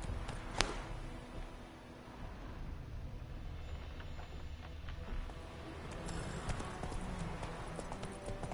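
A horse named Roach walking with soft clip-clop hoofbeats against a low, rumbling outdoor background, the steps faint and somewhat masked.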